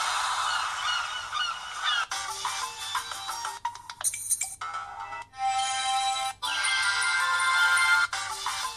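Ringtone playing through the speaker of an iNEW i4000S phone, a loud melodic electronic tune in changing bursts with brief gaps, heard alone.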